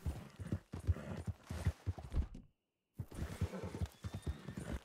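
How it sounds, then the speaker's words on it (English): A horse in Red Dead Redemption 2 clip-clops with rhythmic hoofbeats and gives a whinny, cutting briefly to silence before the hooves resume close by. "Oh, there's a horse."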